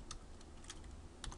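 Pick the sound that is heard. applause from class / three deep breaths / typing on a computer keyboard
typing on a computer keyboard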